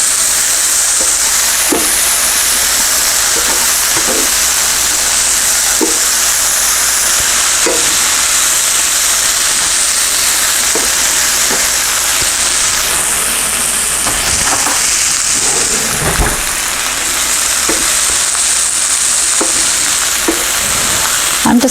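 Peppers and onions stir-frying in a pan for Chinese restaurant-style pepper steak, a steady close sizzle throughout with periodic scraping stirs of the utensil.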